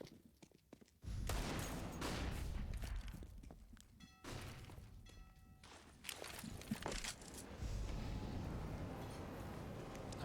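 A grenade blast in a professional Counter-Strike match on the Overpass map bursts loudly and close, then gives way to sustained gunfire and footsteps.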